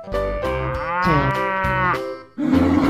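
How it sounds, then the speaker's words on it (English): A cow moos loudly and up close, giving a few short lowing calls and then a long drawn-out moo that bends in pitch, followed by another deep call, with no talking. "Cow."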